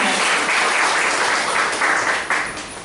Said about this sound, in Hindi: फिर हम ताली बजाकर अपने परमेश्वर को धन्यवाद।